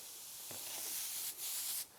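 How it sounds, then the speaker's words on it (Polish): Onion frying in a hot pan without fat, a steady close sizzling hiss with a couple of brief louder crackles, then dropping slightly quieter. "Na rozgrzaną patelnię wrzucamy cebulę, będziemy ją smażyć bez dodatku tłuszczu"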